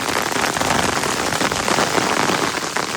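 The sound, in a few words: hailstorm, ice falling like rain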